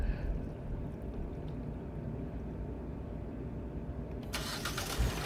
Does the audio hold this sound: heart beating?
no